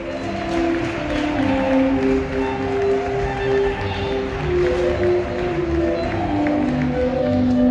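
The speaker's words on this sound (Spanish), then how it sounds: "Un fuerte aplauso para nuestros modelos." Audience at a Valencian traditional costume fashion show, with steady crowd applause and some cheering carrying through, while background music plays throughout.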